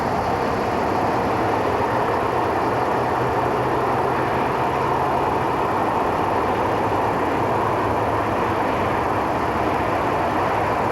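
An express train on the Lyon–Marseille railway rushes past with a loud, steady broadband roar and rumble that holds unbroken the whole time, with no voices.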